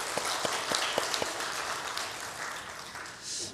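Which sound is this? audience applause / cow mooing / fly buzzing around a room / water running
audience applause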